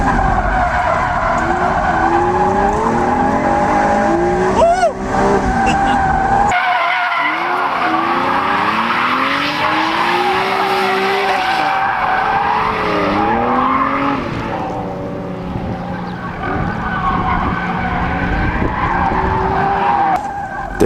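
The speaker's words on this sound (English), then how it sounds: "They're riding around in the Acura NSX, a mid-engined Japanese exotic with around 280 horsepower" Acura NSX, a mid-engined Japanese exotic with around 280 horsepower, driven hard at a charity ride event, tires squealing and skidding in repeated loud howls over the steady engine roar, heard close from inside the car.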